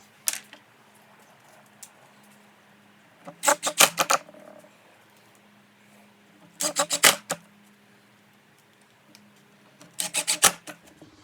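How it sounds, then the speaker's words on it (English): A drill driving 1-inch pocket-hole screws into the wooden frame of a cornhole board, three separate short bursts of rapid ratcheting and grinding with quiet gaps between them, close and fairly loud. "then I'm just going to fill in the pocket holes with the 1-inch Craig screws"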